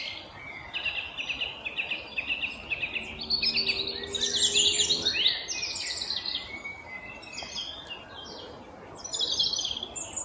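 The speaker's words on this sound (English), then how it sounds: "one of the most beautiful sounds of the whole spring, song thrush" A song thrush sings in spring, a clear, fairly close series of bright repeated phrases with short pauses between them, over faint background insect hum.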